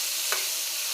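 Brinjal fries in hot oil with a steady, loud sizzle, and a brief scrape of stirring breaks in partway through.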